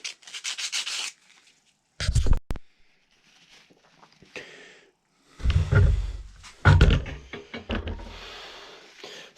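A wooden ball block is rubbed by hand with sandpaper along the grain in short, irregular bursts of scratchy strokes, close up, separated by pauses and a few knocks of the block being handled.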